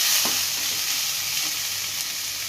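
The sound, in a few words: green chillies sautéing in a pan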